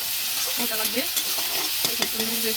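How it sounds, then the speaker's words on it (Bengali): Small shrimp frying in oil in a pan for a bitter gourd stir-fry, a steady close sizzle with occasional stirring scrapes underneath. "ভেজে দিব চিংড়ি মাছগুলো ভাজা প্রায় হয়ে এসেছে"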